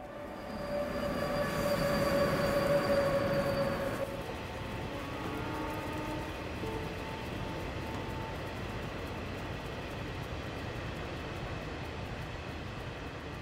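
A train rumbles loudly along the tracks with steady wheel clatter and a high squealing tone, its roar easing slightly as it continues passing.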